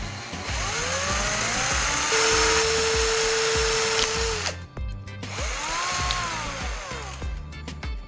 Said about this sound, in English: I'll drill a hole in the plastic cap.